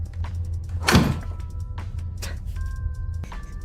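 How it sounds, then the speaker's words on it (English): A door closing in the video game Disco Elysium, a single solid thunk near the start over a low steady game ambience, followed by quieter thumps and faint tonal hums. "Did I close that door with my bloody hand?"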